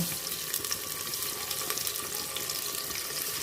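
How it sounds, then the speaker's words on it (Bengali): Chopped onion frying in oil in a pan, a steady crackling sizzle with a watery hiss that runs evenly throughout at moderate level, with no voices. "এই পেঁয়াজ কুচিটা এর মধ্যে আমি দিয়ে দিলাম একটু ভাজা ভাজা হয়ে যাবে"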